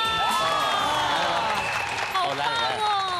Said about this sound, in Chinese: 掌声鼓励，掌声鼓励